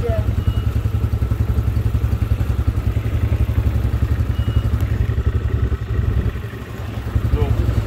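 An AKT RZ2 motorcycle engine runs steadily close to the microphone, with a continuous low mechanical chug and clatter throughout and a brief dip near the end.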